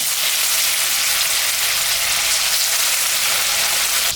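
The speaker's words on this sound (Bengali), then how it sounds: "সর্ষের তেল গরম হয়ে গেছে মাছটা এখন আমি ভাজব" Silver carp pieces salted and coated with turmeric sizzle loudly in hot mustard oil, a dense continuous crackle of frying that holds steady throughout without any talk.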